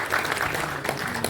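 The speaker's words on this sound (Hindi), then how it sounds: "जोरदार तालियों से स्वागत।" Audience applause at an Arya Samaj gathering, a short burst of dense clapping from a crowd heard at moderate loudness throughout.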